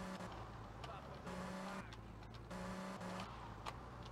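Car engine in the GTA Vice City video game, a steady in-game motor hum with shifting tonal notes running throughout, with people talking over it.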